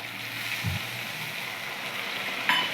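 Masala frying in a pan for a katla fish curry gives a steady, close sizzle, with a brief splash and a sharper hiss near the end as a little water goes in.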